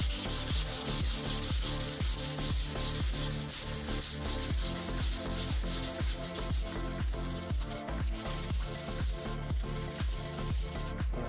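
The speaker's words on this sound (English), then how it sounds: "we're going to sand this down so I can put the filler on" Sanding down the damaged front wing of a Volkswagen Beetle before filler: a continuous, close scratchy rasp with quick, regular back-and-forth strokes, loud and steady with no voices.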